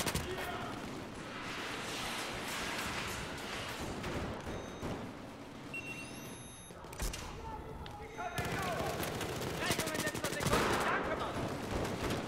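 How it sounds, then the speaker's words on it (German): Battlefield 4 gameplay gunfire: dense, rapid bursts of automatic shots and scattered bangs keep up throughout, close and heavy, with someone talking over the shooting. "die schießen da einfach nur drauf"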